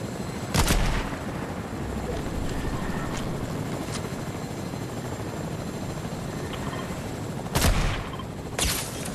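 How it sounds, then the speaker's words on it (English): Gunfire in Fortnite, a few sharp shots at the start and near the end over a constant rumbling drone, the shots heard at middle distance. "they're shooting across north at somebody"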